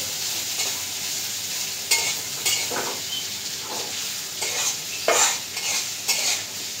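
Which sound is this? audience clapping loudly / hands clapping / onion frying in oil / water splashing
onion frying in oil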